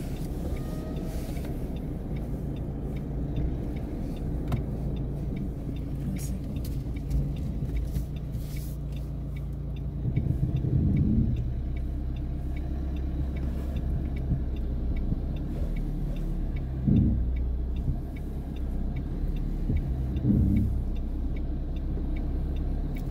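A car on a driving-lesson course pulling away with the clutch slipping, then accelerating: a steady low engine rumble runs throughout, with a few brief swells as the revs rise, heard from inside with no talking.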